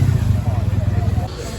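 Motorcycles, including a Royal Enfield, rumble at low idle as more bikes gather near the start line of a Distinguished Gentleman's Ride in Solent, UK, a steady close engine drone running under the whole moment.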